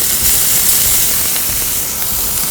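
Flank steak strips sear in a smoking-hot oiled pan, a loud, steady, close sizzling hiss with crackling spatter that holds evenly throughout, no voices.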